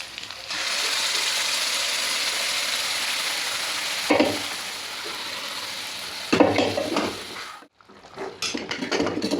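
Ground coconut paste goes into a frying pan of sautéed onion, green chilli, curry leaves, ginger, garlic and coconut bits, giving a steady loud sizzle with louder hissing bursts and scraping stirs.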